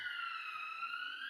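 A steady electronic automatic alarm sounds at the end of an indoor meeting, a sustained high tone with layered harmonics that slowly droops slightly in pitch, moderately distant and continuous without pauses.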